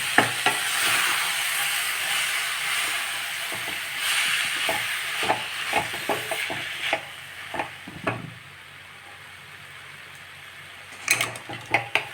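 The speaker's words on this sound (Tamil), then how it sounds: "பாலக்கீரையை நல்லா சின்ன சின்னதாக கட் பண்ணி வச்சுருக்கேன் இதில் இப்போ ஆட் பண்ணிடலாம்" Chopped spinach going into a pan of sautéed masala and being stirred, with a soft continuous sizzle and a run of scraping, clattering stirring strokes up close, then quieter stretches and a final burst of clinks, without speech.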